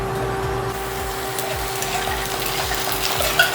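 Potatoes frying in oil, a constant bright sizzle with a steady hum underneath and rhythmic scraping as they are stirred, fairly loud and close.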